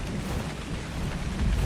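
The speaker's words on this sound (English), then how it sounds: "this storm is actually kind of scary" A video game thunderstorm on an island plays as a dense, loud wash of rain with low rumbling thunder swelling toward the end, and no talking.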